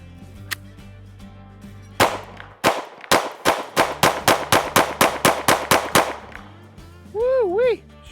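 Springfield Hellcat Pro Comp pistol emptying a full magazine, about a dozen sharp shots in a fast steady string, loud and close, with a short burst of sound afterward.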